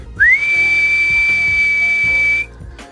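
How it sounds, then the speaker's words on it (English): Loud, close whistle from a person pushing a handheld noise meter toward its red level: a quick upward swoop into one long, steady high note held for about two seconds, then cut off over a low hum. "If I tried it even louder,"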